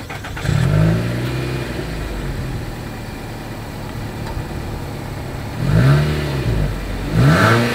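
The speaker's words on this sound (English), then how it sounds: "As always, here is that exhaust clip." A 2020 Nissan Altima sedan's engine idles with a deep dual-exhaust rumble, revving briefly near the start and twice more near the end, each rev rising and falling.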